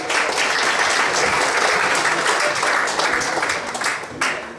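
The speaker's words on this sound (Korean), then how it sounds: "큰 박수로 환영해 주시기 바랍니다" Audience at a high school class 40th graduation anniversary gathering applauds to welcome a performer, a full, dense burst of clapping that stays loud and steady before thinning out toward the end.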